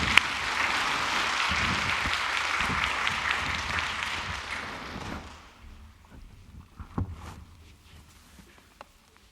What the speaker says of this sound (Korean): 우리 다시 한번 박수로 축하하도록 하겠습니다